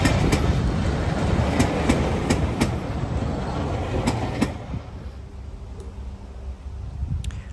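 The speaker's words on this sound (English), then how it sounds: "Class 52 Western number D1015 Western Champion, this time arriving into Hampton Lode" Class 52 Western diesel locomotive D1015 Western Champion rolls into Hampton Lode station on the Severn Valley Railway, a loud rumbling passage with rhythmic clickety-clack over rail joints that eases slightly toward the end.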